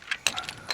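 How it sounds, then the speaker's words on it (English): A few quick ratchet wrench clicks while working on the starter of a 2007 Pontiac Torrent, short metallic ticks spaced irregularly, faint and close. "Oh, wrench work."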